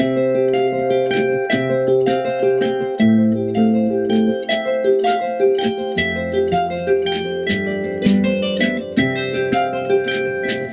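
Harp strings are strummed in a steady looping pattern of strong and soft strokes, with bright plucked attacks over ringing low notes, no voices.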